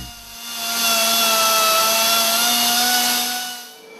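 Steady, loud power-tool grinding with a sustained whine works the wear ridge at the top of a cylinder liner on a large MAN B&W two-stroke marine diesel during piston overhaul, running continuously for several seconds before tapering off.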